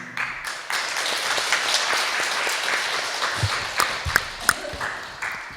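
An audience gives a priest a round of applause after his lecture at an evening retreat, a sustained wash of many hands clapping that tapers off with a few scattered late claps.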